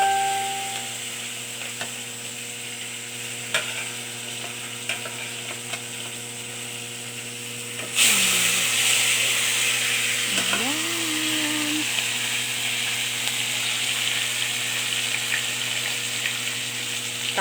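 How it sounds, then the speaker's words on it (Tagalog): Paksiw (fish) frying in oil in a pan, a steady broadband sizzle with a louder burst as the lid or food goes in midway, continuing alone without talk. "Tapos, piprituhin ko na ang paksiw."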